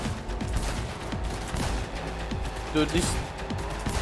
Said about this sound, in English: this revolver is so powerful